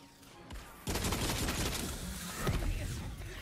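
A rifle in Tiny Tina's Wonderlands fires a long, dense burst of rapid shots that starts abruptly and keeps going, loud and close, with a heavier thump partway through.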